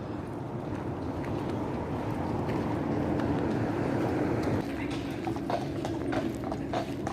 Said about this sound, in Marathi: लंडन पोलीस असं घोड्यावरून सुद्धा जातात